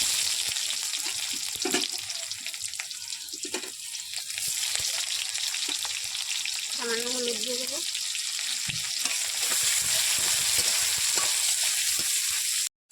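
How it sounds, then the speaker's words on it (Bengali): Onions sizzle steadily in a hot pan with oil, dried red chillies and panch phoron throughout, with someone speaking briefly over the frying. "পেঁয়াজটা ভাজা হয়ে গেছে"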